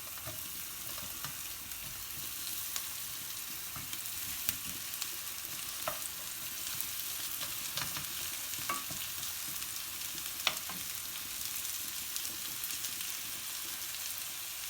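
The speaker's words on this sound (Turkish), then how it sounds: "Şimdi 5 adet enginarımızı tavamıza koyuyoruz." Artichoke hearts sizzle in a pan with softened onions, a steady, quiet frying crackle with scattered sharp pops throughout.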